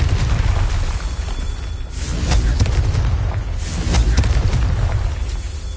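Deep booming blasts from the Confringo spell in the Hogwarts Legacy video game rumble loudly, with a few sharp bursts over a continuous low roar.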